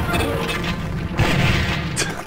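A joke weapon called the ass gun firing bouncy projectiles in the game Duke Forces: a few loud booming blasts close together, separated by short gaps.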